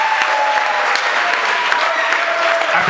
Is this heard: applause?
yes